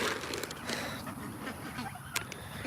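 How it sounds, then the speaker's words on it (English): Geese and ducks at a farm pen during evening chores, a loose chorus of honks and quacks at moderate distance, steady and overlapping with no talking. "Geese and ducks don't really have homing instincts, so they just won't go home when it's dark."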